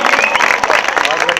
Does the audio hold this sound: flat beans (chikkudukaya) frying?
no